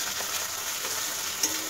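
A ginger-garlic masala fries in a pan in a home kitchen, giving a steady close sizzle with a few small pops and no talk.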